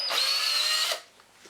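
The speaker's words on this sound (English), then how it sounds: "I'm now going to proceed to drill the hole." A power drill runs in reverse, with cutting paste on the bit, drilling out a broken bolt. The whine is loud and steady for about a second, then cuts off.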